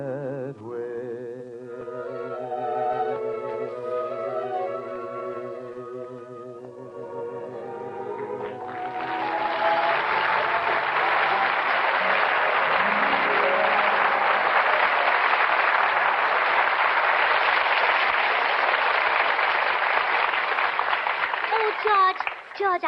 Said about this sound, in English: I heard all that applause outside